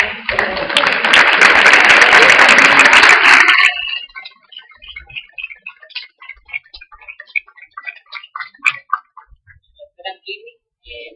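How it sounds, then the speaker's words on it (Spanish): An audience applauds at the close of a panel discussion on school life stories. The clapping is loud, dense and sustained for about four seconds, then cuts off abruptly, followed by scattered faint clicks and rustles in a quiet room. "Y le damos un aplauso."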